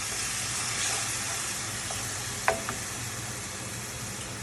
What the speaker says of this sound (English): So once the garlic is cooked a bit, I'm just putting the chopped tomatoes.